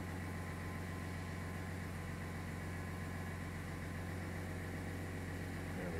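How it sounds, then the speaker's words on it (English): A 2020 GMC 1500 pickup with a Duramax diesel engine idles, a steady low rumble and hum holding even and unbroken throughout, heard without any talking. "It is a Duramax diesel engine."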